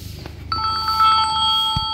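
A telephone rings on a cattle farm, a bright electronic warbling ring starting about half a second in and continuing steadily, close and loud, over faint background noise.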